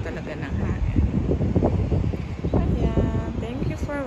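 Strong wind blows in through an open door and rumbles across the microphone in steady gusts, with voices faintly audible in the room.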